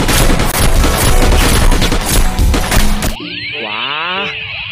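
A toy AK-47 fires a dense, loud rapid burst of electronic gunshot effects for about three seconds, then switches to a warbling, swooping synthetic tone.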